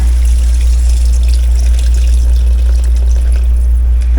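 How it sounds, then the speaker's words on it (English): About three cups of water poured into a pan of mushroom and onion roux, a steady loud rushing pour over a strong low hum, continuous and close. "I'm gonna pour some water in there."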